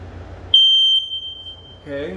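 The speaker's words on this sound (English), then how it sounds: "New smoke alarm." A single loud, piercing beep from a new bedroom smoke alarm in a renovated house sounds close by for about half a second, fading out before a voice begins speaking.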